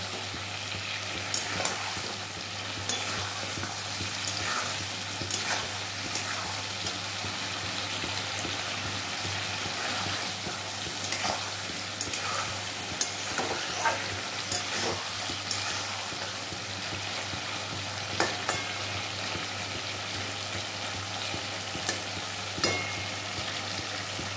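Chicken gizzards and mushrooms stir-fried in their own released liquid, no water added: continuous close sizzling broken by frequent scraping and clinking stirring strokes over a low steady hum.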